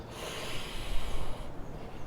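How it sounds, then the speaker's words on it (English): Steady, audible breaths held during a yoga arm balance pose, a close, airy inhale and exhale with a snort-like rush of air, faint and alone. "Take a few breaths here."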